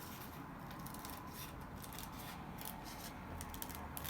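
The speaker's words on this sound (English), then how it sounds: "the first cone that's going inside the second cone needs to be trimmed around the section that is" Scissors trim a cone for a homemade surgical-type mask made of t-shirt fabric and metal, giving quiet, close, steady snipping and rubbing with no talk.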